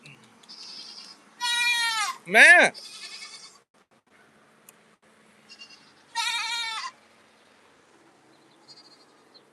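Goats fighting on a farm, with loud, wavering bleats in a few separate bursts, one low rising cry in the middle, close by, between quieter rustling pauses; someone speaks briefly.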